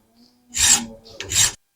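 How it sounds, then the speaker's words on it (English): A chainsaw file cutting a groove into a folding knife, heard as two close, harsh rasping strokes separated by a brief pause. "I'm going to take that little groove out of there now with a chainsaw file"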